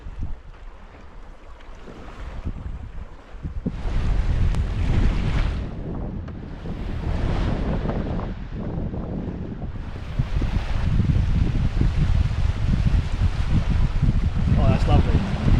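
A Sun Odyssey 43 DS sailboat runs wing on wing at about four knots, with steady wind rushing and buffeting the microphone and water washing along the hull, loud and continuous.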